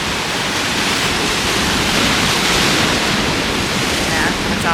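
Waves surge and splash onto a black sand beach on Hawaii's Big Island, a loud, dense wash of surf and spray filling the whole stretch.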